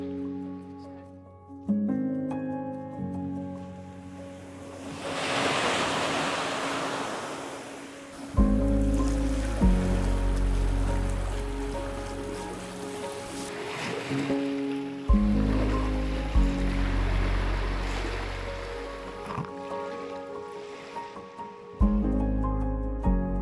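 Waves wash in on a sandy beach on the southern coast of Crete in late autumn, swelling and receding surges with wind noise in the microphone, while tonal music plays over them.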